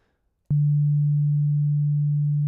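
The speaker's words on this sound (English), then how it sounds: "you can hear it's basically just a sine wave" A pure, steady sine tone from Bitwig's Phase-4 synthesizer starts abruptly after a brief silence and holds at one low pitch, loud and unwavering.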